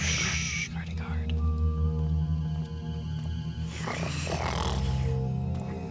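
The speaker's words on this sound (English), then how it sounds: "Dude, you snore way too loud." A guard snoring in the stealth game Thief: The Dark Project, with slow, low rumbling snores that rise and fall, and someone talking quietly over them.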